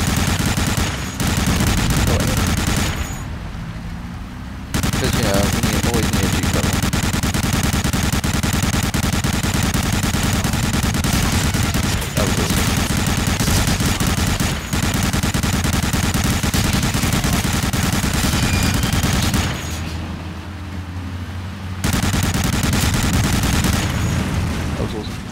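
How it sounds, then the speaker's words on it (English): Sustained automatic gunfire from the player's weapon in Medal of Honor: Allied Assault, dense and loud almost throughout with brief pauses, and voices talking over it. "if you look at the shots, they don't actually come from your gun, they come from your face"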